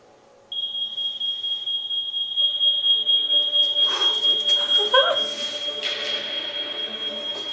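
A smoke alarm in the TV episode Sherlock 'A Scandal in Belgravia' starts suddenly and shrieks in one steady high-pitched tone, loud and close, with faint rustling and movement underneath.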